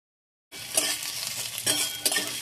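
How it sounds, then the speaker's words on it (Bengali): Eggplant pieces frying in mustard oil with potatoes in a pan, sizzling that starts abruptly and continues steadily, with scraping stirs and clinks of the utensil breaking through, close and alone. "এবার বেগুন দিয়ে ভালো করে ভেজে নেব"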